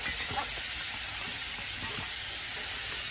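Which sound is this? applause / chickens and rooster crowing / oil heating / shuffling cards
oil heating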